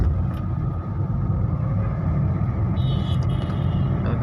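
A car driving on a wet road in heavy rain, heard from inside as a steady, loud low rumble with road and tyre noise throughout.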